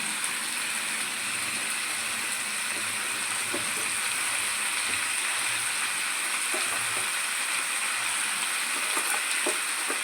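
Potato pieces frying in oil with chicken kosha in a pan, a steady bright sizzle with occasional small spatters and clinks, close and continuous, no talk.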